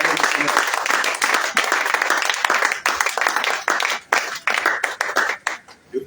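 A church congregation applauding in praise of the Lord, sustained brisk clapping from many hands that fills the room, then thins and breaks off near the end while a voice speaks over it.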